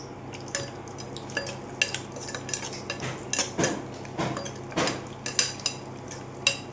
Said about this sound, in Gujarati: તેમાં આપણે સૌથી પહેલાં કાજુ તળી લેશું.